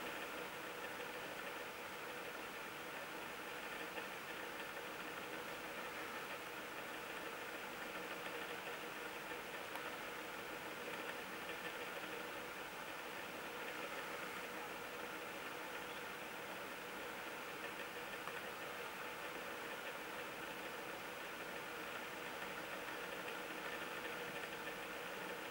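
Rotax 912 engine of an ultralight aircraft running steadily for the whole stretch, a constant broadband drone with a mid-range hum and no break in level, with nobody talking.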